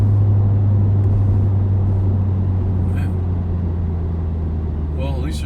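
A Corvette C7 Grand Sport cruising down a road, heard from inside as a steady low rumble and road roar with faint ticks and a voice briefly at the end.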